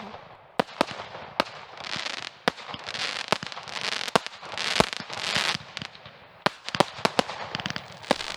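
Fireworks crack and bang repeatedly during an evening walk, sharp distant-to-mid-range pops scattered irregularly among hissing, crackling bursts, with no voices over them.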